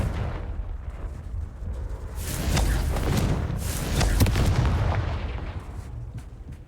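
Confringo blasting spells exploding in Hogwarts Legacy, a series of loud booming blasts and crackling bursts that swell in the middle and fade toward the end.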